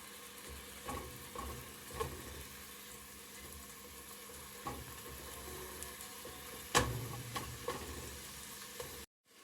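Garlic sauteing in a pot for egg drop soup, a faint steady sizzle with scattered soft stirring taps and one sharper clink, cutting off at the end.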